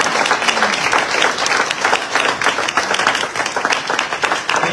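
A room full of people applauds veterans at a patriotic youth gathering, with close, loud, continuous hand clapping that rises and falls slightly without a break.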